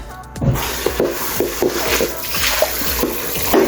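Running tap water splashes over chicken in a strainer as it is rinsed, a close, steady gush with irregular knocks and shuffles from the pieces being moved about.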